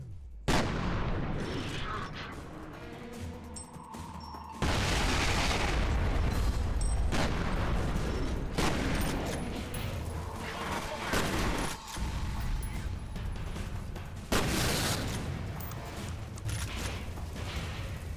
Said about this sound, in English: we will shotgun clear most of this